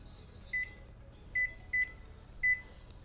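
An oven control panel chirps four short electronic beeps at uneven intervals as the baking temperature is raised to 350 for homemade baked beans, clear and close over a quiet hum.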